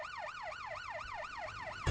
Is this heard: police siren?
yes